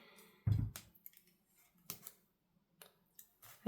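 Scissors snipping a planner sticker, a few close, crisp cuts spaced apart in a quiet room.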